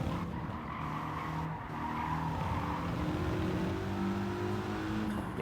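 A 4-wheel-drive Mitsubishi race car in the Gran Turismo 7 video game, engine droning steadily while the tires squeal and skid through a corner, continuous and fairly loud.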